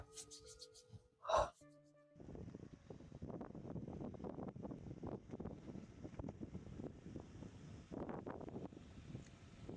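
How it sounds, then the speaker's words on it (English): Gusty wind roars across a microphone at a cold, overcast outdoor spot, a low rumbling buffet that starts after a brief sharp noise and keeps going steadily with no talking. "it's cold, it's windy, it's overcast"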